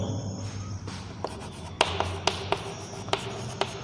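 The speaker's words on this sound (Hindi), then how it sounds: "अब इस लॉ को लिखते हैं हम" Pen or marker writing out a genetics law by hand, steady scratching strokes punctuated by sharp taps as letters are finished, close and clear with no talking.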